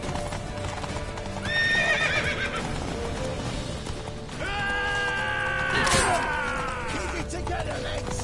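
A horse in a PS4 video game, with rapid clip-clop hoofbeats running throughout and two loud, shrill whinnies rising over them, the second one longer.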